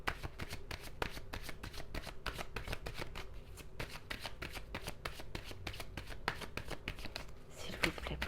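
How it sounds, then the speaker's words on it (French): Tarot cards being shuffled and drawn, a steady run of close, crisp riffling flutters that continues for several seconds, with someone speaking French over it. "je vais tirer quelques cartes d'abord"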